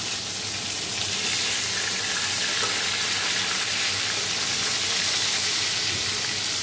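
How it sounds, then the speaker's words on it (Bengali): Stingray (shankar fish) pieces frying in oil in a pan, a steady loud hiss and crackle that holds evenly throughout with no talking. "এই যে শঙ্কর মাছ ভাজা হচ্ছে"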